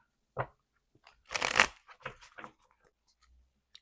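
Tarot cards being shuffled by hand, a few quick close riffling bursts and soft slaps separated by short pauses, crisp and isolated in a quiet room.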